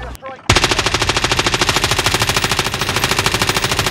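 Sustained automatic gunfire in a shooter video game, a rapid loud burst of rounds firing in steady rhythm after a brief quiet start, with a player's voice faintly underneath.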